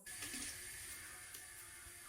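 Paddy straw being soaked and washed in a water tank for milky mushroom cultivation, a faint steady running and sloshing water sound with no voices.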